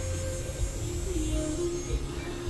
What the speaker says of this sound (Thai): ดีเลยพัดลมมือถือ น่าสนเว้ย เย็นดีเหมือนกันนะ